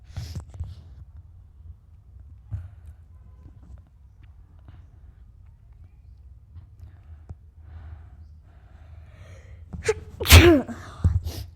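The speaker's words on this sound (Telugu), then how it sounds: "ఏం సడన్గా తుమ్ములు వస్తున్నాయి" A person with a cold sneezes suddenly after a long stretch of near-quiet, with a sharp, loud burst close to the microphone and a smaller follow-up near the end.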